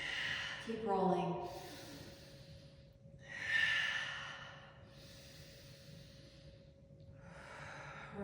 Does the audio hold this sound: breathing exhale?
yes